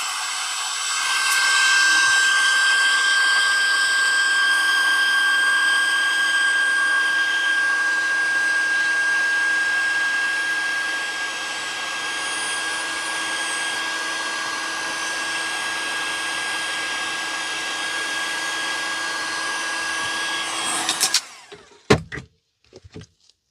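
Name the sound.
heat gun heating resin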